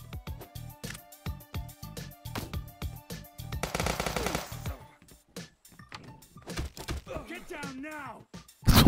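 Rapid bursts of gunfire in the police tactical video game Police Stories, sharp repeated shots in quick strings, then a pause before scattered single shots, with someone talking over the later part.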